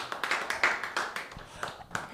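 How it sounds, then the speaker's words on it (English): Scattered applause from a small audience at a comedy open mic night, uneven claps and taps rising and falling in loose bursts, with no steady rhythm. "Keep your clappers clapping for everyone who's gone up tonight"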